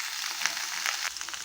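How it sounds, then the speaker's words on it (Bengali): Potatoes and eggplant frying together in a pan for a Bengali fish curry, giving a steady, even sizzle with a few soft stirring clicks, close and alone with no voices. "আলু বেগুন একসঙ্গে ভেজে নেব।"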